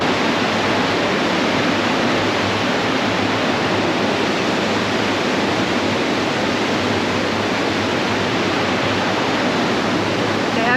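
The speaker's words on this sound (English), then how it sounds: "We sit back here a lot and just listen to the water and watch it." Water churning in the wake behind the Symphony of the Seas cruise ship, a loud steady rushing roar like a waterfall that holds evenly throughout, with no talk.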